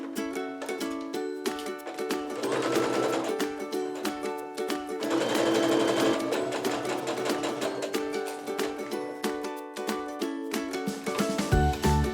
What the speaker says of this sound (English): I'm going to pin all these and again sew them through, chain piece the entire blocks to finish the blocks off